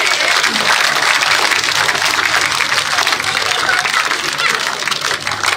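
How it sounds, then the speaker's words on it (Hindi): Dense, steady applause from a crowd at a village public meeting, loud and continuous clapping throughout without a break, with faint voices mixed in. "आप लोग ताली बजाते रहे।"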